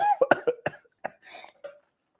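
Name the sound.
person coughing and choking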